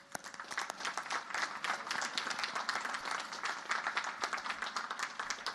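Audience at a Naval Academy graduation and commissioning ceremony applauds distinguished graduates, a broad, fairly distant wash of many hands clapping that swells and holds evenly, with sharper individual claps standing out.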